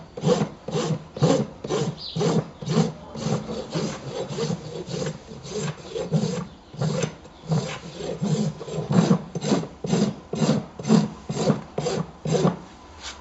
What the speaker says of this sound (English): now we're going to rasp down and kind of mold our foot like we kind of want it